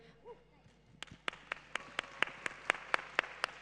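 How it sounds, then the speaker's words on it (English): Sharp, evenly spaced claps ring out for a guest introduced on stage at a Web3 gaming panel at a conference. About eleven distinct claps follow a brief bit of voice at the start, in a steady, close, slightly quickening rhythm. "please give this guy an applause first."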